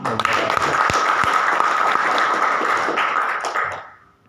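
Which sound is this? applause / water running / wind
applause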